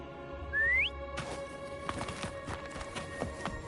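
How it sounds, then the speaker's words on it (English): A single rising whistle in the video game Wuthering Waves, brief and clear, followed by a series of soft thuds and clopping footsteps over quiet game music. "Try whistling."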